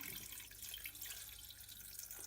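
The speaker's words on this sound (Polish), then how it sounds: "Wystarczy, że wlejemy wody, żeby zapełnić ten pojemnik na dole." Water pours steadily into the lower container of a Hurom slow juicer for self-cleaning, a continuous close splashing rush with no voices.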